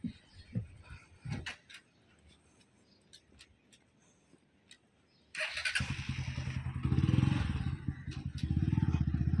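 A milkman's motorcycle arrives at dawn, its engine starting up loud and close after several seconds of quiet early-morning ambience with faint clatter, then running with a steady rumble and rising revs.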